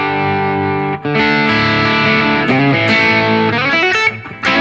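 An electric guitar played through the Line 6 Helix Native amp simulator plugin in Pro Tools, with a gritty distorted tone, sustained chords and shifting notes ringing loud and up close with no talking.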